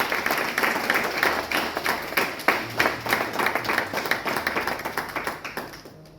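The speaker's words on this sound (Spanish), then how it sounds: "Démosle un aplauso al que vive para siempre." A church congregation applauds during a sermon, a steady crowd of hands clapping at moderate volume for about six seconds before it tapers off.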